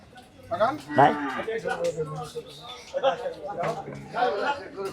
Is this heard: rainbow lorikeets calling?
no